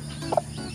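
A native mother hen, broody and protective of her freshly hatched chicks, gives two short close clucks in quick succession against a low steady background hum.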